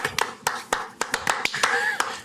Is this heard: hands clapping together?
yes